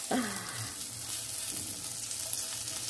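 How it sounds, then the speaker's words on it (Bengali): Bitter gourd frying in a home kitchen, a soft steady sizzle running throughout with a brief louder splatter at the start and faint clinks of stirring. "এই হচ্ছে আমাদের উচ্ছে ভাজা"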